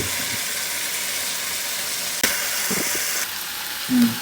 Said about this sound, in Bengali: একদম তেল উঠে আসা পর্যন্ত আমরা এটাকে কষাবো